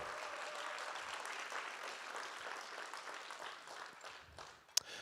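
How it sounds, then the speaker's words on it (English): Applause for generous donors at a Make-A-Wish Idaho fundraising auction, a soft, steady patter of many hands clapping, fairly distant and faint, fading near the end with one sharp knock. "Big round of applause, all the generous people."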